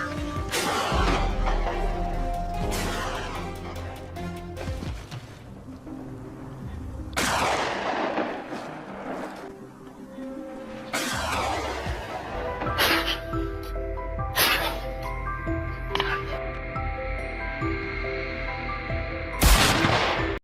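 Rifle shots ring out during a wild boar hunt, a handful of loud, sharp cracks spread across the stretch with echoing tails and gaps between them, heard outdoors with no talk over them.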